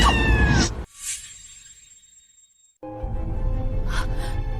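A cat yowls in pain after being struck, a loud, strained cry that trails off into a faint, thin wail, framed by louder noisy commotion before and after.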